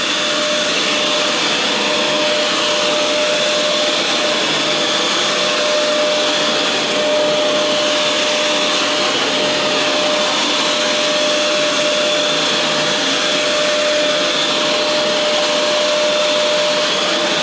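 Fantom Wildcat vacuum cleaner running indoors nearby, a loud steady whining roar with a constant motor tone, unbroken for the whole stretch with no talking.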